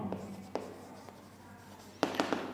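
Pen strokes scratching across a page while a maths problem is worked out, a few short scribbles spaced apart and then a quick burst of strokes, close and fairly quiet.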